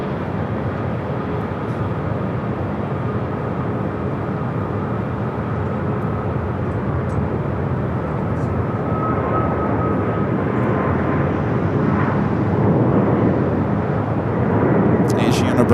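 A jet airliner takes off at LAX, a loud, steady engine roar that swells slightly toward the end, with a voice talking over it.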